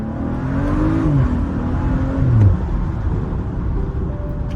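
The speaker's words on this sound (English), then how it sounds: "Just wait for all these cars to go by" Cars drive past one after another, engines swelling and fading in a rumbling, whirring stream of traffic.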